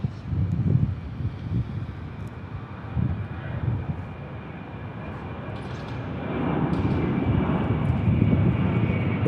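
Airplane departing from Memphis International Airport, a FedEx hub: a broad, distant jet engine roar with wind noise that rumbles on steadily and swells slightly toward the end.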